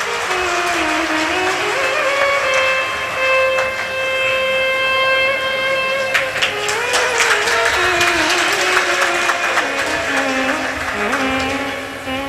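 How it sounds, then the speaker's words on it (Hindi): Audience clapping for a boy who walked from Ashta carrying a kanwar, at a large Shiv Mahapuran katha gathering in Sehore; sustained crowd applause swells in the second half over loud ongoing musical tones. "एक बार जोरदार ताली बजाओ इस बालक के लिए।"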